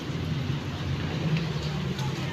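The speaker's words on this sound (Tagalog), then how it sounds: "No choice tayo kasi maulan talaga." Steady rain falls outdoors, a continuous dense hiss with a low rumbling undertone throughout, fairly close and even in loudness.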